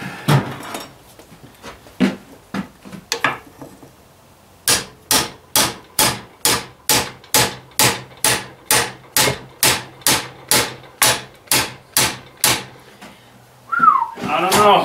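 A bigger hammer striking parts on a Ford 800 tractor, with a few scattered knocks and then a long run of about twenty loud, evenly spaced metallic blows, close and ringing, before a brief clank at the end.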